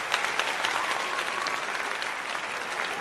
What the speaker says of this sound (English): Let me give that some motherfucking applause, man.